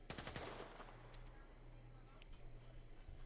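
Gunfire in the video game London City RP, a rapid burst of sharp shots at the start followed by a couple of scattered distant cracks, faint under a low hum and murmured talk.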